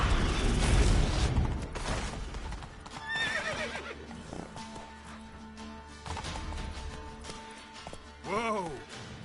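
Roach the horse in The Witcher 3 lets out a clear, falling whinny near the end, preceded by hoof clip-clops, game sound effects and scattered voices.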